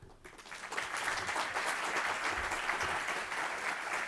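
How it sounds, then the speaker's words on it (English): Audience applause at the opening ceremony of the CARLA 2024 conference, a steady dense clapping from a crowd throughout, moderately distant with no voices on top. "Please, let's give a round of applause to all of them."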